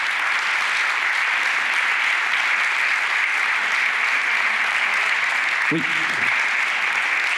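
Steady applause from an audience greeting Lucky Numbers, the Tiki Édition board game named first EducaFlip 2022 laureate, fills the room throughout, with a brief spoken word near the end.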